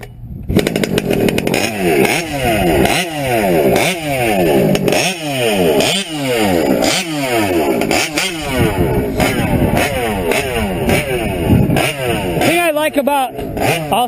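The gas engine of a TLR 5B 1/5 scale RC car screams through repeated sharp revs, each one a rising whine that drops away, loud and close and coming in quick succession over a steady buzzing idle.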